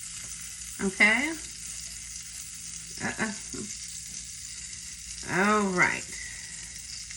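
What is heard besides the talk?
French toast frying in butter in a pan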